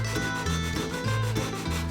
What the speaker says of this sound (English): And I'm using very fine sandpaper, just 320 grit